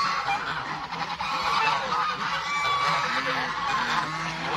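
A large flock of farmyard geese, about 150 birds mixed with ducks, honks in continuous overlapping calls close by, loud and busy with no pauses.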